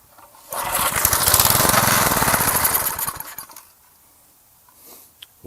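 A gas-powered lawn edger's small engine cranks and sputters loudly close by for about three seconds, then cuts out, leaving quiet with a few faint knocks.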